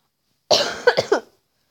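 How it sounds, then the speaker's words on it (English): A single close, harsh cough followed by a few quick raspy bursts, then silence. "so I have this horrible um, cough"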